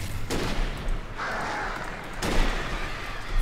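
Gunfire in the Alan Wake video game, with a loud burst of shots near the start and another heavy volley later, over a dense, rumbling game soundscape.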